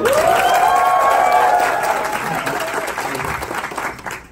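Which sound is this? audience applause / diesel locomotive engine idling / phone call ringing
audience applause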